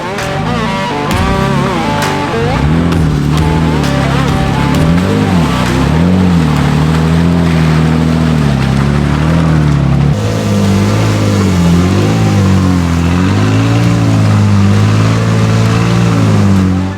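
A 4x4 engine revs hard and loud during an off-road build competition, one of them an LS-swapped 4Runner, its pitch climbing and dropping in repeated surges that stay steady and close throughout.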